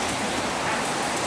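Steady rain falling in Laos, a dense continuous hiss of drops on surfaces, loud and close with no other sounds.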